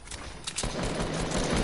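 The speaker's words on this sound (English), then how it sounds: "I literally shot him in the head" A burst of rapid video game gunfire, dense automatic shots crackling continuously at moderate loudness after a brief quieter lead-in, with no talk over it.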